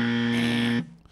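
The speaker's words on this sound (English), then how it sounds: "If you get the answer correct, you get the correct buzzer." A wrong-answer buzzer on a radio quiz game sounds as a single loud, flat electronic drone lasting under a second, then cuts off abruptly, with no talk over it.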